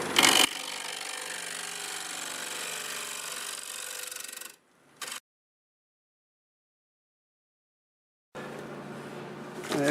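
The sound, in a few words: wood lathe turning and flattening black locust burl bowl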